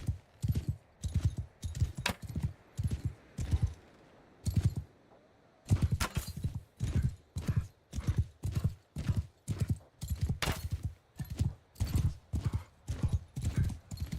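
Horse hooves clip-clop steadily in Mount and Blade: Bannerlord, loud, close and rhythmic, in repeated bursts with a short pause partway through; a horse whinnies faintly at times.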